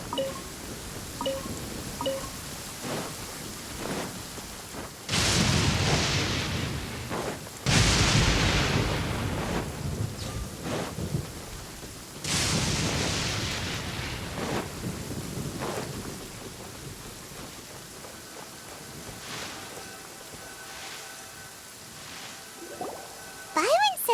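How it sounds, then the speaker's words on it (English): Steady rain pours down in the Genshin Impact video game, heard as a continuous hiss broken by several loud, rumbling thunder-like surges, then fading toward a quieter finish. "Marching in the rain conceals the sound of our arrival, but is also a test of stamina."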